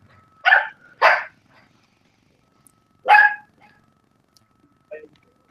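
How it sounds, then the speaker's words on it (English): A dog barks in short separate bursts, two quick ones, then a single bark after a pause and fainter ones at the end, fairly close in an otherwise quiet room. "sounds like my fucking dog, dude"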